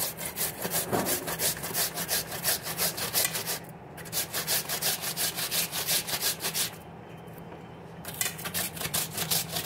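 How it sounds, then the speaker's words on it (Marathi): Fresh turmeric root, peeled, is grated on a hand grater for turmeric pickle, giving steady rhythmic rasping scrapes with two brief pauses, close and fairly loud with no talking. "त्याला आपल्याला किसून घ्यायचं किसणीवर।"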